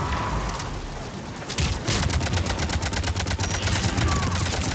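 Reapers fire their weapons in Mass Effect 3 during a firefight. The rapid, dense bursts grow louder partway through and come as a fast rattling barrage with background noise, and a voice speaks over part of it.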